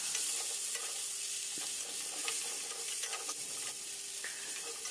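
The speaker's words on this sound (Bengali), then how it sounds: "এরপরে আমি ফুলকপি এবং আলুটাকেও সুন্দরভাবে ভেজে নেব।" Cauliflower and potato pieces fry in oil in a pan, a steady low sizzle broken by scraping stirs and occasional clinks of the spatula, close and alone.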